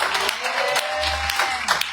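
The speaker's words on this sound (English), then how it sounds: "Can we clap hands for Jesus?" A church congregation at a Sunday service claps for Jesus, a crowd of hands with a few sharp individual claps standing out over a low musical hum and scattered voices.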